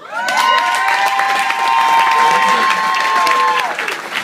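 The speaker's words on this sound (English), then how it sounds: "A big round of applause" A theater audience at a Humphrey Bogart film festival breaks into loud, sustained applause mixed with cheering and whoops, holding steady for several seconds before tapering at the end.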